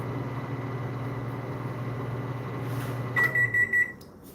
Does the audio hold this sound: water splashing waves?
no